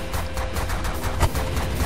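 Energy blaster shooting in The Last Federation, a steady stream of quick, evenly spaced pulses with one slightly louder hit partway through.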